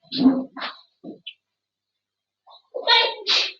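A sharp sneeze bursts out, followed by a couple of short vocal sounds, a pause, then two more quick breathy bursts close to the listener.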